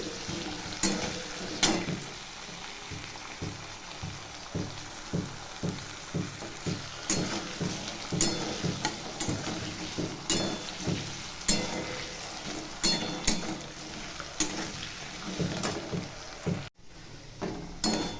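Potatoes frying in a pan are stirred repeatedly, steady sizzling hiss punctuated by regular scraping and clinking strokes of the utensil, close up with no talking.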